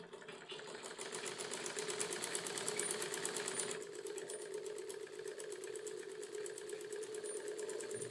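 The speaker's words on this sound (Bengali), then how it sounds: "সেলাইয়ের এই পারে শুধু বেল্টের উপর দিয়ে আরেকটা সেলাই করে নিব" A sewing machine stitches over a folded belt, its rapid, even mechanical chatter running close and continuous before easing slightly partway through, with no voices.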